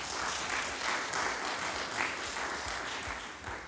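An audience at a secondary school debate final gives a steady round of applause for the young participants, a full, even wash of many hands clapping that continues without speech.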